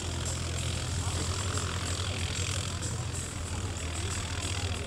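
An aircraft descends to land on runway 28 at the Sarlat-Domme air show, its engine a steady loud drone that holds throughout while an announcer speaks over it.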